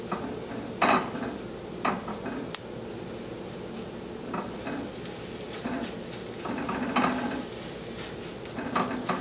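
Scrambled eggs with Swiss cheese cooking in a pan, a soft sizzle broken by several scraping stirs of a utensil against the pan, close and fairly quiet with no talking.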